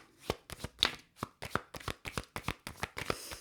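Tarot cards being shuffled by hand, a rapid run of about a dozen crisp, close riffling snaps in quick succession.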